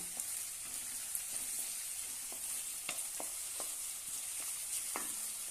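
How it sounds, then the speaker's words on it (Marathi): Finely chopped onion sautés in a pan with cumin, giving a quiet, steady sizzle dotted with soft stirring taps. "एक कांदा बारीक कट केलेला आहे तो घालूया छानपैकी परतून घेऊया"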